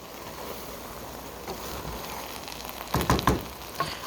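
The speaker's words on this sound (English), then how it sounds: "I'm going to go ahead and give this a nice stir to release everything from the bottom" Rice and beans stirred in a cooking pot, a few scraping clatters bunched near the end over a low steady simmering hiss, fairly quiet and close.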